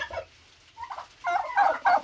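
A turkey gobbles in bursts, close by: a short call, a pause, then a louder rapid gobbling run with no voices.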